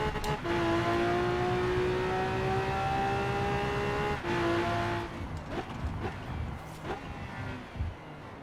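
Loud, continuous engine howl from a Lamborghini Aventador in Forza Horizon 4, climbing steadily in pitch under acceleration, a brief break for a gear change, then turning into rougher, fluttering engine and road noise.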